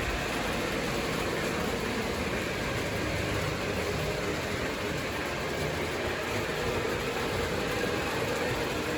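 A model subway train runs on a home layout, giving a steady, continuous rolling whir and rumble with no breaks, close by and at even loudness.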